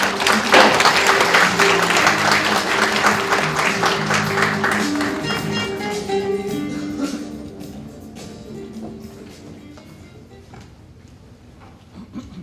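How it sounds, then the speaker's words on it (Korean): Audience clapping at a Korean government informatization ceremony welcomes a vice minister to the stage, loud at first, then thinning and fading out after about six seconds into a quiet, murmuring hall. "역시 큰 박수로 맞이해주시기 바라겠습니다"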